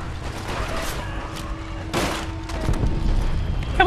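Gewehr rifle shots in Call of Duty: World at War, a few loud reports and metallic bolt-action clatter amid game battle noise, with no talk over it.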